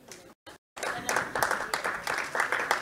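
Clapping at a mining forum for a prize winner who has just received a backpack: a brief dropout, then a steady, fairly loud round of applause from the gathered audience through to the end.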